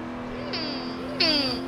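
An El Camino drifting in Forza Horizon 4, steady engine drone with two rising tire squeals as the car slides, close and continuous.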